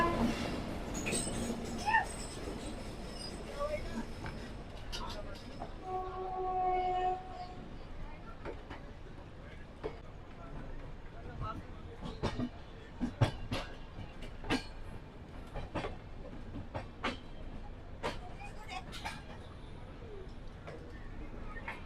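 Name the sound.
train departing, Sanghmitra Express journey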